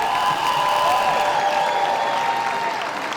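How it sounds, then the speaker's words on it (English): An audience at a fashion festival show at Spitalfields claps in a continuous round, moderately loud and a little distant, with a tonal musical hum underneath. "Let's give another huge round of applause"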